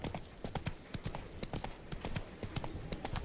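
Roach's hooves clip-clop in a steady, close rhythm of sharp strikes in The Witcher 3: Blood and Wine, sounding over ambient background with faint voice traces.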